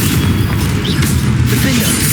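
A Confringo fire spell in Hogwarts Legacy goes off as a loud, continuous booming roar, close and dense from start to end of the short burst.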